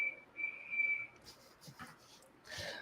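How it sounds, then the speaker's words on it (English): A person whistles a single steady high note in a few short sustained bursts, quite close, followed by faint rustling and soft background sounds. "Good job whistling."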